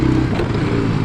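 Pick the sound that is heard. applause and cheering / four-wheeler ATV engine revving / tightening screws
four-wheeler ATV engine revving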